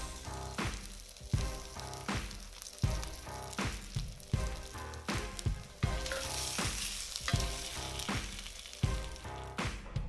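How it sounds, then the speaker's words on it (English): Slices of Field Roast Mexican Chipotle vegan sausage sizzle in an oiled pan over medium-high heat, a steady crackling fry broken by regular scraping stirs from a utensil roughly every second, close and fairly quiet. "Now with your fire set on a medium-high heat, add your vegan sausage."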